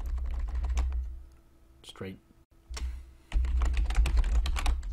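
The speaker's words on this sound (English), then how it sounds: "I can't type anymore." Rapid clicking of computer keys in bursts, close and fairly loud, with a brief pause in the middle and a voice talking over part of it.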